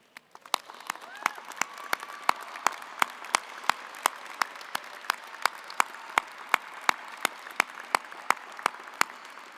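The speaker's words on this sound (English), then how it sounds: "point to your people in the audience, and applause those who have supported you in this journey" Graduates at a 2024 commencement ceremony applaud, with sharp, evenly spaced claps standing out over a steady wash of crowd clapping.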